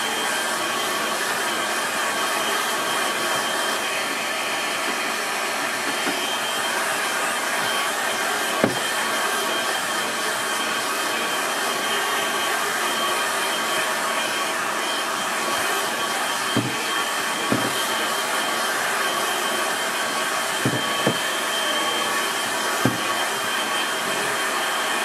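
A hair dryer blows a steady, loud whooshing roar over a watercolour landscape painting, running continuously with a few faint knocks and clicks of handling.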